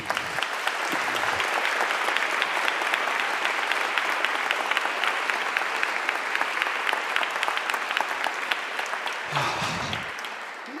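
An evening literary talk audience gives a round of applause, a dense and steady clapping that is loud and sustained for about ten seconds before it tapers off.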